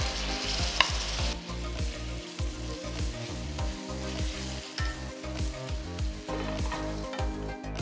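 Chopped tomatoes and slit green chilies sizzling in a pan with ginger garlic paste for kadai chicken, a close, continuous frying crackle broken by rhythmic stirring scrapes, with no talk.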